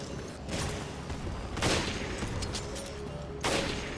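Gunfire in the video game Resident Evil Revelations, a few sharp bursts spaced over a continuous low background of game ambience, with no speech.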